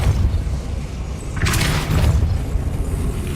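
A Depulso force spell cast in Hogwarts Legacy lands as a loud low whooshing boom with a bright burst, over a constant heavy rumbling background.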